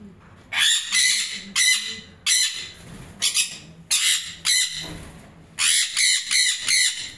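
Several sun conure parrots give loud, harsh squawks in repeated bursts, close up, with short quiet gaps between clusters of calls and no talking.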